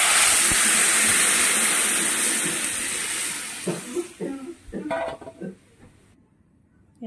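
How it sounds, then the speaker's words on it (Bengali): Hot water poured into a pan of fried cumin seeds and chillies gives a loud, steady hiss and sizzle for about four seconds. It then breaks into fainter bubbling and clatter before going quiet. "এই যে গরম জল দিয়ে দেবো এখন।"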